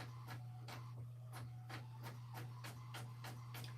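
A home printer works in the background, giving off a low steady hum with a run of soft, evenly spaced ticks and clicks as it feeds paper, faint and distant.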